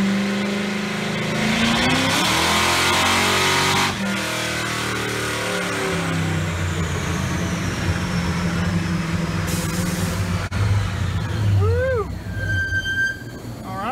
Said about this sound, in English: what we're gonna do is take this car to the dyno and see what it'll make